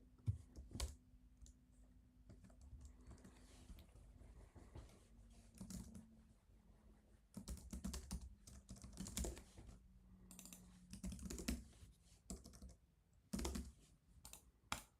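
Close, steady clatter of a computer keyboard while text is entered in the Anki flashcard app, with rapid key clicks in dense bursts and brief pauses between them.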